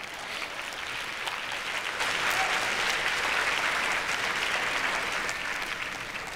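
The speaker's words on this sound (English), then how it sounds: "now you guys can clap, you can go ahead" Sustained audience applause in a talk venue, steady crowd clapping that swells slightly midway and holds at moderate loudness throughout.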